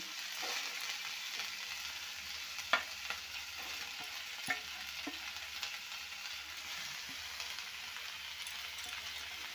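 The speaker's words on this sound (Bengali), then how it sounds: "সবজিগুলো একটু ভেজে নেব হালকা করে ভেজে নেব পেঁয়াজ বাঁধাকপি ফুলকপি গাজর আলু" Onion, cabbage, cauliflower, carrot and potato fry lightly in a pan over low flame, a soft continuous sizzle with a few stirring clicks and scrapes, fairly quiet and steady throughout.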